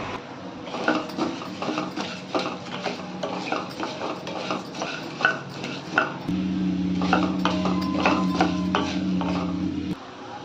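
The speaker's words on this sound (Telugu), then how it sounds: "ఈ పప్పులు చిన్న మంట మీద పెట్టి ఇలా వేపుకుంటూ ఉంటే మంచి కమ్మటి వాసన వస్తుంది పైకి వేగినట్టు" Lentils roasting in a pan over a low flame are stirred with a utensil, giving repeated scraping and rattling strokes. A steady low hum sets in partway through and runs under the stirring.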